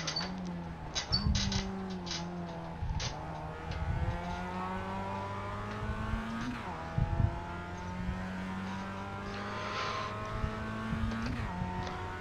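Mazda race car in the iRacing sim, engine revving up and down through gear shifts with repeated pitch sweeps and occasional tire squeal, steady and moderately loud with no talk.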